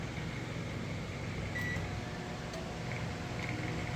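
A microwave oven with steel inside runs at full power, a steady low hum and fan drone filling the whole stretch, with a few faint high ticks from arcing on top.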